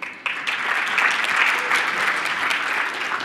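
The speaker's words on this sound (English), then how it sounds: "Round of applause." A conference audience at a peace and governance panel breaks into sustained, dense applause, loud and close, holding steady for several seconds without speech.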